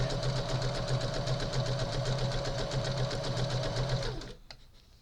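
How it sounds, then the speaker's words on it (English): A sewing machine runs steadily, stitching a straight stitch around the edge of a quilt block, a fast even mechanical chatter heard up close before it stops abruptly. "I'm going to go all the way around with just a straight stitch to stitch the front to the back."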